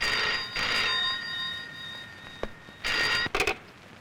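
A telephone bell rings in two distinct bursts with a quiet gap between them, clear and fairly close, over a low background hiss, with no one speaking.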